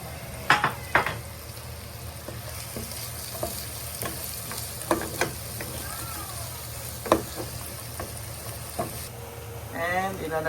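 Chicken adobo fries in butter in a wok, giving a continuous sizzle with intermittent clacks of a utensil scraping and stirring against the pan, and a louder burst of sizzling near the end.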